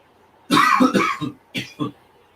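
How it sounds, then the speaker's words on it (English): Several rough coughs up close from someone who is sick: a heavy burst of hacking, then two shorter, softer coughs after a brief pause, no talking. "I'm still a little bit sick though because I have a cough"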